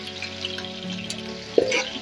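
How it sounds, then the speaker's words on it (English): Onions frying in a pan for a fish paste, stirred steadily, give a continuous close sizzle with soft scraping, and one sharper clatter of the spoon against the pan near the end. "I'm still stirring the onions for making the paste that we're going to use to make fish"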